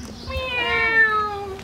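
A child imitates a cat's meow, giving one drawn-out, wavering mew that rises and then falls over under two seconds. It is close and fairly loud, with no other sounds.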